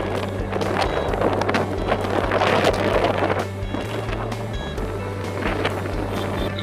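Strong cyclone wind roars at Vizag's RK Beach, a loud, continuous broadband rush with gusting swells and buffeting on the microphone, with no speech throughout.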